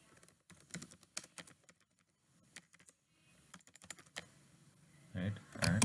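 Keys clattering on a computer keyboard while a purchase request description is typed into business software, bursts of quick close clicks with pauses, ending in a louder flurry of keystrokes.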